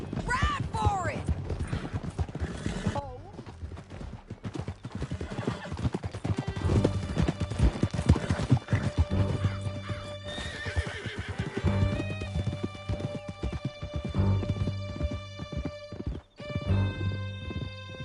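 Horses in Red Dead Redemption 2 whinny sharply at the start, then gallop in a fast, steady clip-clop rhythm for a long stretch, mixed with shouted voices and rumbling game sound.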